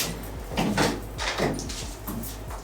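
Doors in a luxury condo in Pattaya being opened and shut, a few soft knocks and sliding thumps spaced over a couple of seconds, close by and fairly quiet against a low steady hum.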